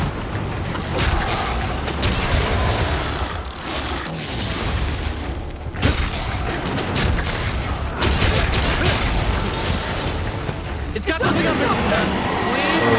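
Repeated booming explosions and mechanical crashes from Monster Hunter Rise arena fight, with a busy layered soundscape and speech mixed in throughout.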